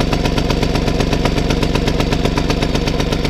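A Vélosolex moped's small engine runs close and loud, with a fast, even putt-putt pulse throughout and no voices.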